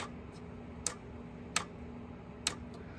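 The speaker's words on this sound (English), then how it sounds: "you can really hear the relay in there, like clicking through." Relays inside a Diezel Einstein guitar amplifier click through in three sharp, isolated ticks spaced about a second apart, close and crisp over a faint steady hum.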